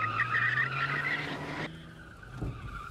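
A car's rear end slides out, its tires squealing loudly and continuously for about a second and a half before the skid cuts off, leaving a lower engine rumble.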